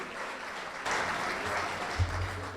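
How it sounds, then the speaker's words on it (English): A room full of people clapping together in a burst of applause, rising and then sustained, with some murmuring underneath. "Why don't we give our servers a round of applause and thank them for doing such a good job."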